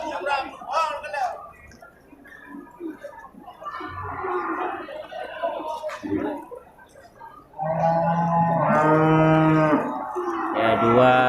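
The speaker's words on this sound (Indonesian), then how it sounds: "Ini 2 ekor sapi Aceh ideal ini kan, ya." Black Aceh cattle with large humps low and moo at the Bireuen livestock market; a long, loud, deep moo dominates the second half, with people talking and animal sounds earlier.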